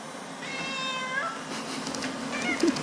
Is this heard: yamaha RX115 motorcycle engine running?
no